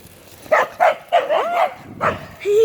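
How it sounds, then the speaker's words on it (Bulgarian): A dog barks while chasing people outdoors on a path, letting out about five sharp, close barks in an uneven rhythm with short gaps and a whine at the end. "някой куче ни гони и трябва да бягаме."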